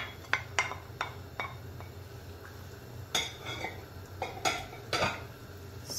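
Diced onions being added to a cooking pot of Nigerian white soup, heard as a close series of irregular clinks and scrapes of a utensil against the pot over a steady low background hum, with no talking.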